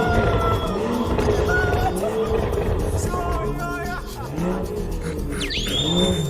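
Car exhaust fitted with a dual Valvetronic system, loud engine revving and roaring with sharp pitch swings and possible tire squeal nearby, with voices talking over it.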